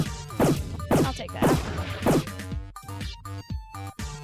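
Ship cannons firing a volley in a video game: a rapid series of loud booming impacts, about five heavy blasts roughly half a second apart, followed by scattered sharper crashes and bursts, with no talk over it.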